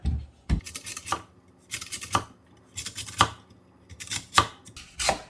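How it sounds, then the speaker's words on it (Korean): A knife slices peeled lotus root into fairly thick rounds on a cutting board: about six crisp, evenly spaced cuts, close and clear, with no talk. "연근은요 너무 얇게 썰지 말고 이 정도 두께로 썰으세요"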